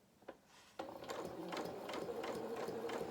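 A sewing machine stitching the curved seam of a fabric cat toy body, starting after a few faint clicks and then running as a steady, close, rhythmic whir with no voice.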